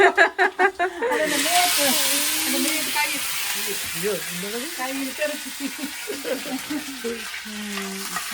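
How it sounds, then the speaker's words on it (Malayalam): Mustard seeds spluttering in a hot pan beside a boiling curry, a loud crackling hiss with rapid pops after a few rhythmic thumps, while people talk over it. "കടുക് പൊട്ടണുണ്ട് സൈഡിൽ കൂടെ കറി തിളക്കണുണ്ട്"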